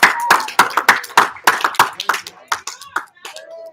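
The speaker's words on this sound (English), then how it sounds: "round of applause" A small group claps in a youth gathering, giving a round of sharp, close hand claps in a quick irregular rhythm that thins out toward the end, with voices calling out over it.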